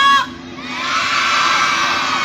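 A crowd of children shouts together in a loud, sustained burst of excited yelling that holds steady for a couple of seconds.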